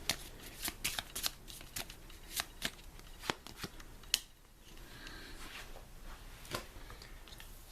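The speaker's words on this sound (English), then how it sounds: "I'll just shuffle this one more time" A deck of playing cards is shuffled up close, with a string of crisp riffling bursts and snaps at an uneven rhythm, followed by softer card handling, all fairly quiet.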